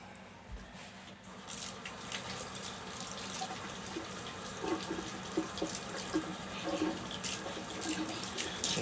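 A kitchen tap runs steadily and quietly while a knife is rinsed under the stream, a soft continuous splash with small irregular water spatters throughout.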